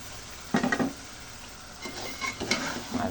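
Large pieces of rohu fish fry in a pan with tomato, onion, garlic and spices. There is a low sizzle throughout, with a few soft stirring scrapes of a utensil against the pan.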